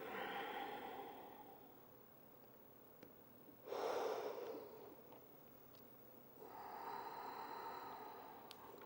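Slow, soft breaths during a gentle yoga stretch, with a long audible exhale swelling in the middle and quieter airy breathing before and after, close and faint.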